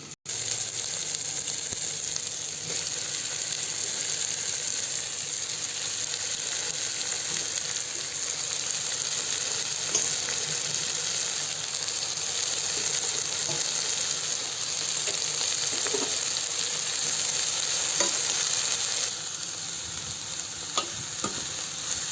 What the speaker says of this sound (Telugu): కొద్దిగా పసుపు ఇప్పుడు ఈ గోసుని వేయాలి